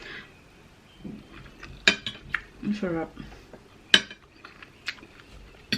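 Cutlery clinking against glass dinner plates during a Filipino meal of pork adobo, chicken tinola and lechon kawali, several sharp clinks and scrapes scattered through the clip, with a person speaking briefly.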